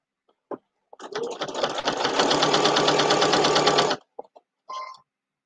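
Sewing machine stitching a quilted potholder, one steady three-second run of fast whirring and needle ticking, close and clear, framed by brief clicks and handling taps before and after.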